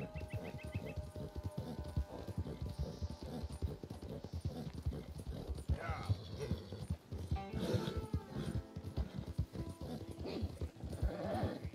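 Horse hooves clip-clop steadily and loudly through Red Dead Redemption 2 gameplay, a continuous rhythmic gait with a brief whinny-like sound partway through and game ambience beneath, no talking.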